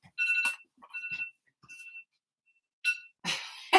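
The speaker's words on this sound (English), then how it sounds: "Oh no, that's my phone." A mobile phone ringtone plays clear electronic tone bursts in an irregular melodic pattern, close and fairly loud, with short gaps between the notes.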